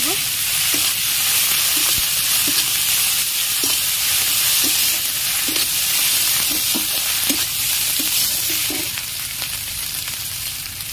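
Slit green chillies and cumin powder frying in hot oil for a Bengali steamed egg and potato curry, a loud continuous close sizzle with occasional clinks of a stirring spoon against the pan.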